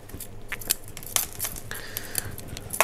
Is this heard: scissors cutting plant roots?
yes